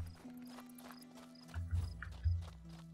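Horse hooves clip-clop in the video game Two Worlds II, a few heavy low thuds in the second half over steady game ambience and a faint background tone.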